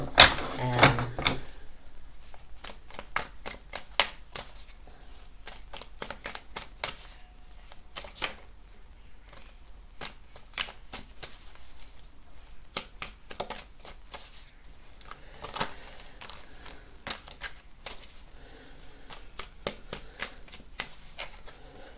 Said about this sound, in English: I'm just going to pull a few cards here